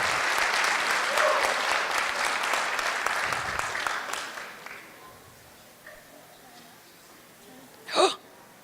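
An audience at a 2017 trail ambassador pageant gives loud, dense applause that holds for about four seconds and then dies away, followed by near quiet and a brief vocal sound near the end.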